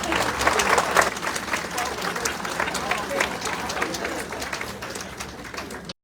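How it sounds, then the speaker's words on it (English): A crowd applauds at a clothing presentation, the clapping steady and moderately close, slowly fading over several seconds, with a few voices and a cooing bird mixed in. "give her a round of applause."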